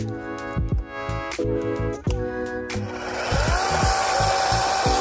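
A chainsaw pruning peach and fig trees drones loudly while repeated thumps and knocks punctuate the first half, then the engine revs up into a steady cutting whine.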